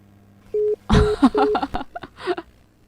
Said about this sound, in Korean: 중간에 갑자기 툭 끊어졌어요.